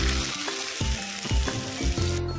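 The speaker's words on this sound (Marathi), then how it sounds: "छान तडतडली की त्याच्यामध्ये टाकूयात आपण कढीपत्ता, त्यानंतर कुटलेली मिरची मिक्स करूयात." Curry leaves and crushed chili crackle in hot oil, a steady broad sizzle punctuated by a few sharp spitting bursts and clinks, close and fairly loud with no voices.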